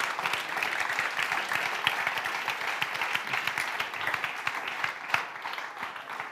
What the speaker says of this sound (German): Geben wir Ihnen doch einen Applaus.